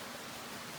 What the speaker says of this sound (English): That means we don't have to run in the rain.